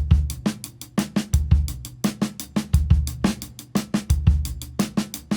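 A drum kit plays a tight, repeating groove: punchy kick and snare hits with crisp hi-hat strokes between them, loud and close.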